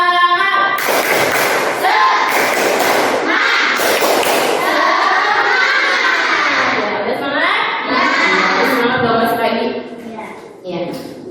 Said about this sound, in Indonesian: kita tepuk semangat dulu biar tambah semangat